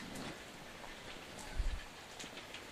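Steady rain falls outdoors as a faint, even hiss of drops, with a soft low thump partway through and no voices.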